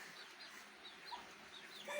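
Soft, scattered clucks from a chicken strolling about, a few short chirpy calls spread over a quiet, steady background.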